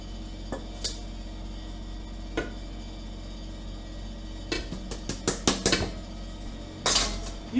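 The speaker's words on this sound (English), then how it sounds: "Start stirring slowly, okay? We have a lot of flour that we have to get in here." A spoon knocks and scrapes against a mixing bowl while flour is stirred into chocolate chip cookie dough, with sporadic clinks that cluster into a quick run of taps near the end.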